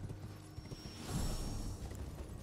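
Horse hooves clopping at a steady gallop while riding on horseback in the video game Elden Ring, a soft continuous rhythmic thudding mixed with ambient game sound, louder in the middle.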